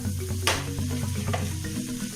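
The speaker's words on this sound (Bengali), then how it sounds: "এবার এই চিকেন কিমার সাথে সমস্ত মশলা খুব ভালো করে ফ্রাই করব।" Chicken mince and spices frying in a pan, giving a steady, close sizzle with the soft scrape of stirring and occasional brighter crackles throughout.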